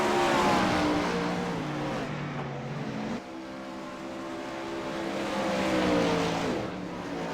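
Race cars in a sim racing broadcast roar around the track, engines droning and shifting pitch as they accelerate, loud and continuous with no voices over them.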